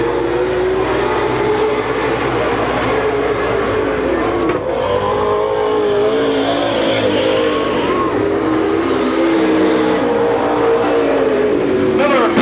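Dirt-track race cars at a weekly racing night in Watsonville, California, roaring as they power out of turn four. The engine noise is loud and continuous, and a commentator talks over it throughout.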